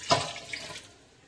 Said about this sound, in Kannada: ಫ್ರೈ ಆದ ನಂತರ ಸ್ವಲ್ಪ ಈ ನೀರನ್ನು ಹಾಕುವ